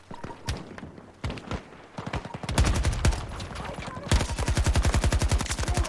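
Gunfire in the shooter game Battlefield 2042: scattered single shots give way to loud, rapid automatic bursts, with a steady rattling volley dominating the final seconds.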